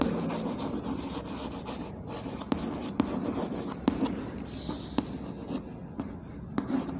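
Chalk or marker writing on a classroom board during an English grammar lesson, a faint scratching with several sharp taps as letters are formed, under a quiet roomy background and with no speech.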